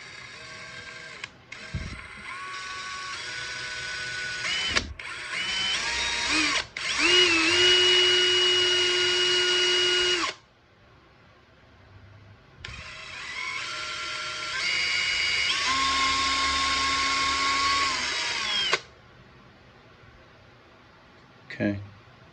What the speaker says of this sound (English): Let's get these belly weights drilled.